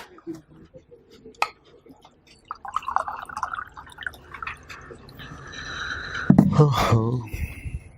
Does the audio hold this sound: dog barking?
no